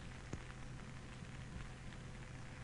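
Rain falling steadily on a muddy riverside bank outdoors, a dense even patter with scattered sharper drops close by, no talking.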